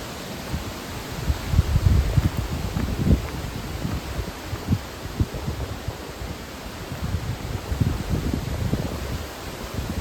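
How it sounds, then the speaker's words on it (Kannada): Wind blows through the trees on an outdoor walk in Ooty, a steady, close rush with gusts and leafy rustling that rise and fall. "ಫುಲ್ಲು ಮರ, ಫುಲ್ಲು ಗಾಳಿ, ಚೆನ್ನಾಗಿತ್ತು ಒಂಥರ."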